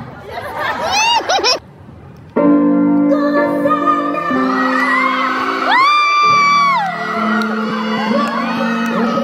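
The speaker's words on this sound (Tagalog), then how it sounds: "Gusto niyo, doon lang kayo papalakpak na may kasamang sigawan." A live audience cheers, whoops and shouts loudly, with crowd noise and laughter swelling into sustained high-pitched shrieks and claps, near and energetic, after a brief stretch of lighter voices at the start.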